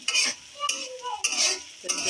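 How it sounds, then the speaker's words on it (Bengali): Chopped onions sizzle in hot oil in a pan as a spoon scrapes and stirs them, several close scraping strokes over a continuous frying hiss in a village kitchen, with no talking. "এখন পেঁয়াজটা একটু ভাজা ভাজা হবে"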